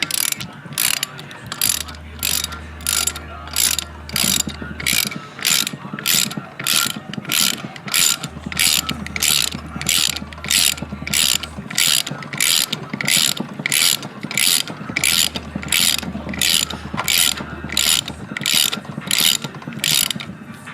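A valve spring compressor works on a valve spring during an LS engine install in an E30 build, giving a long series of rapid, evenly spaced ratcheting clicks close up, interrupted by a few lower droning passages.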